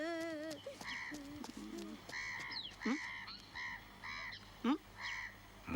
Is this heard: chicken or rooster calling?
yes